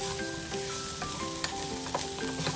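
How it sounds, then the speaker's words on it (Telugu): Broad beans frying with chili powder in a pan, a loud close sizzle with scraping stir strokes and light clinks of the spatula, no voices. "1 నిమిషం పాటు ఫ్రై చేసుకుంటే చిక్కుడుగాయ ఫ్రై రెడీ అవుతుంది"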